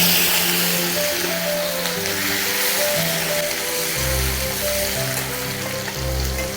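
Chopped onion fries in hot oil with cumin, a bay leaf and dried red chilli for a Bengali kakrol fish curry. The close sizzle is steady and crackly, with soft tonal sounds underneath.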